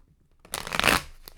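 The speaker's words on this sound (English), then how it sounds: "I'm going to do 3 shuffles." A deck of tarot cards riffled once in a quick burst of crisp, papery fluttering, with a light snap at the end.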